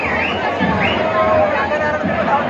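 Crowd of devotees chattering inside the packed halls of Ekvira Devi temple near Lonavala, a dense, continuous babble of many overlapping voices filling the room.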